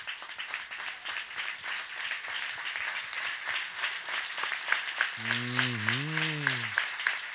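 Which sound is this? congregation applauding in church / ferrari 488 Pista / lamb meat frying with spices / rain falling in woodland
congregation applauding in church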